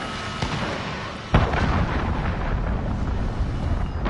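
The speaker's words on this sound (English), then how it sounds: "Enemy cruise missile incoming." A cruise missile strike in a PS4 video game: one sudden heavy boom hits about a third of the way in, then a long, dense rumble of debris and explosions rolls on to the end.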